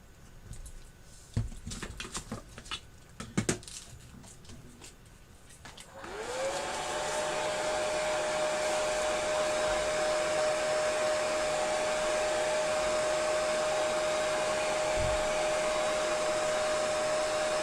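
A hair dryer switches on after some light tapping and handling noises, then blows steadily and loudly with a constant whine while drying a cut piece of fabric.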